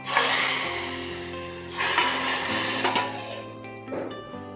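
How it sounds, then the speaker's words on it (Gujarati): Spices for farali kadhi tempering in hot oil, bursts of sharp sizzling that flare up and fade in a few waves, with clinks of utensils, close and fairly loud. "હવે આપણે વઘાર કરી નાખીશું."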